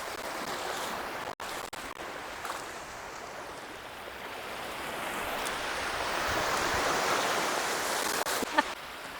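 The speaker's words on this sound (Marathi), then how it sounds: "लाटा पण जोरा जोराच्या येते" Strong sea waves break at Varsoli Beach in Alibag, a steady broad roar of surf mixed with wind rumble that swells gradually louder toward the end, with no voices.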